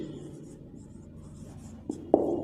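Pen strokes scratch softly on paper as someone writes by hand, working through exam questions, faint and continuous, ending in a couple of sharper taps near the end.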